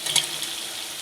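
Boiled mutton goes into potatoes frying in hot oil for a Bengali goat curry, giving a brief close, steady sizzle with a small splashy burst at the start.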